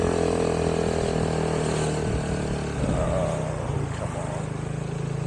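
An older car nicknamed Old Minty drives uphill toward a hilltop church in early evening, its engine droning steadily and fairly loud, with a throaty hum that shifts slightly partway through.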